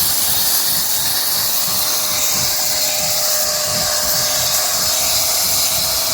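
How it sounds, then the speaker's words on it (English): Loud, continuous hiss of steam jetting from a UWANT portable steam cleaner onto a carpet stain, steady and close, with no talking. "And then steam."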